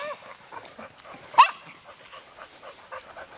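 A dog playing fetch with a ball lets out a single short yip or whimper amid quiet outdoor play, while a person speaks softly around it.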